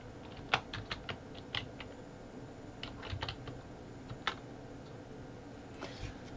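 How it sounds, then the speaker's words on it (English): Quick bursts of clicking keystrokes on a computer keyboard, irregular and close, with short pauses between runs, fairly quiet. "And I'm going to type a city."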